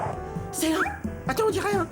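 A cartoon dog floating on the ocean gives short whimpering yips and barks, heard under someone speaking French throughout.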